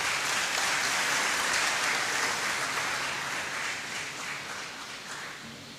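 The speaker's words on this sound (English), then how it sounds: "Please, let's give her a round of applause." Applause from an audience at a hackathon event, a dense steady clapping wash that slowly fades toward the end.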